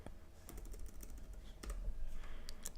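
Soft clicks of someone typing on a computer keyboard while entering text into an Android app, a quick run of taps, faint and close, with no talk.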